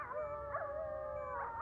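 A dog's howl comes through a stethoscope as a steady, tonal wail that wavers and bends in pitch. It sounds close and muffled, with a low rumbling hum underneath.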